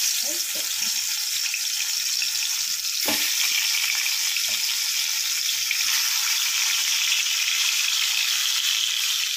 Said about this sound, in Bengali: সব মাছগুলো আমি একে একে ভেজে নিই